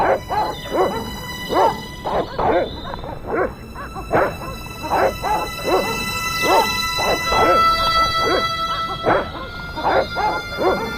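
Dogs in the Broken Sword: Reforged video game barking and yipping repeatedly in an excited, near-continuous run of short barks, close and loud over a steady background hum.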